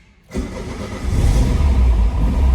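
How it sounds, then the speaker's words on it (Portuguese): A 1987 Ford Escort with a 1.6 CHT engine cranks briefly and catches, then settles into a steady, low idle that grows fuller and keeps running close by with no talk. "Deixa eu só dar a partida aqui."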